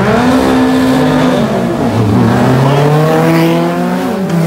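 Formula Vee race cars climb a hillclimb course, a loud, close engine note whose pitch rises and falls through gear changes, sustained and dominant throughout with no voices over it.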